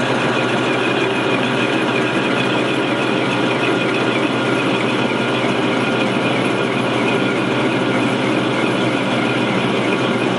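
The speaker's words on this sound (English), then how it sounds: "cutting pipe with a lathe is pretty easy. You just come into it with the parting tool." A lathe turning at about 240 RPM while a hand-fed parting tool cuts through pipe, a loud continuous machine drone with a steady whine and no pauses.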